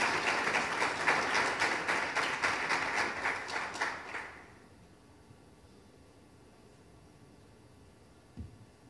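An audience at a law conference gives a round of applause to welcome Professor José Roberto de Castro Neves, dense clapping for about four seconds that stops abruptly, followed by near-silence and one faint thump.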